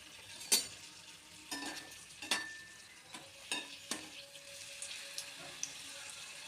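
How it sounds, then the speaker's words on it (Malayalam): Papadum snacks dropped one at a time into hot oil in a heated pan, giving sharp splashing crackles and bursts of sizzle with a few clinks, close and moderately loud, with no talking. "ഇനി നമുക്ക് പപ്പട സ്നാക്ക് ഓരോന്നാക്കി ഇട്ട് കൊടുത്ത് വറുത്തെടുക്കാം."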